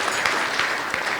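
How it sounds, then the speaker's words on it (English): Brief burst of audience applause at an award ceremony, a steady patter of many hands clapping at moderate volume. "Don't you think that deserves a round of applause?"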